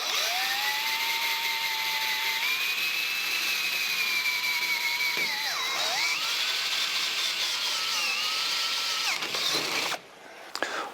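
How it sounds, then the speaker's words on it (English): A drill bores holes into the body of a 1949 Chevrolet gasser during chrome trim installation, a steady loud whine that rises and dips in pitch under load for about ten seconds before stopping abruptly, with no talking. "I got to drill holes in the car."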